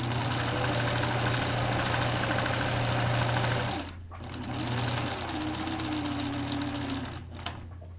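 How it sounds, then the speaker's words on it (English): A sewing machine runs steadily while stitching a new seam through skirt fabric, whirring loudly for several seconds, stopping briefly, then resuming at a lower, uneven pace before pausing again. "leaving the original seam intact until I finish stitching this new seam"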